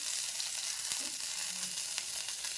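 Spices and rock salt dry-roasting in a pan for homemade rasam powder, giving a steady, close crackling sizzle with faint scraping, no voices.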